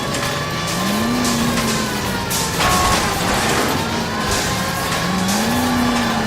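A car in the L.A. Noire video game drives at speed during a pursuit, its engine droning steadily while tires squeal in long rising and falling whines, with a siren-like wail also present.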